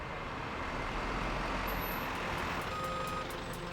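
A truck backs into a loading dock, its reversing alarm beeping in a steady rhythm over a dense, continuous rumble of engine and traffic noise.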